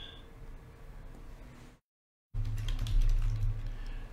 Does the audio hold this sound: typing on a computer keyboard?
yes